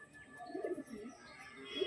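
Soft, low pigeon coos rise and fall in a few murmuring phrases close by, with faint background hiss and no talking.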